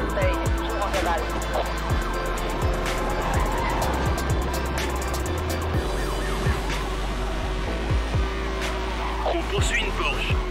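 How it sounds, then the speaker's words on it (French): Police sirens wail during a Porsche pursuit in the Need For Speed Hot Pursuit racing game, with a steady engine roar and scattered sharp impacts underneath, loud and continuous throughout, while a voice talks over it. "On poursuit une Porsche."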